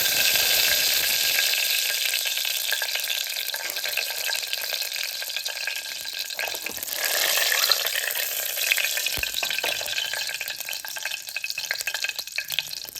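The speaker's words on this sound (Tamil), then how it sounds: "இந்த ஸ்பைசஸ் எல்லாத்தையும் போட்டு நல்லா வறுத்து எடுத்துக்கணும்" Whole spices sizzle and fry steadily in a pressure cooker for a Kerala-style kadala (chickpea) curry, with scraping stirs breaking through the continuous hiss and no talking.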